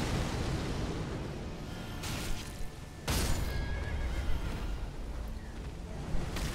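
A horse in the Elden Ring video game neighing and whinnying loudly while dying, heard amid battle noise with sharp impacts, rumbling, and repeated cries over several seconds.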